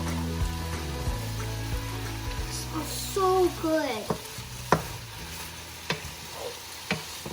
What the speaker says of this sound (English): I just love the sound of that sizzle.